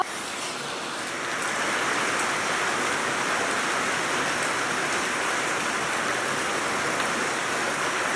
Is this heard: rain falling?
yes